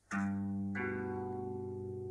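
Two guitar notes are plucked one after the other, each ringing out and sustaining quietly with a slightly processed tone.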